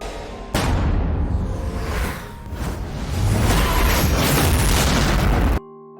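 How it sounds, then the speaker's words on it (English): A massive hypernova blast from an anime fantasy battle erupts after a brief pause, a loud sustained roaring boom with rumbling bursts and swooshes that swells, holds, then cuts off abruptly near the end. "Sora used atomic theory to create a hypernova explosion that could destroy many"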